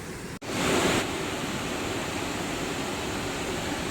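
Water pours out of the Anchuruli tunnel mouth into the Idukki reservoir, a steady loud roaring rush like a waterfall, with a brief dip near the start.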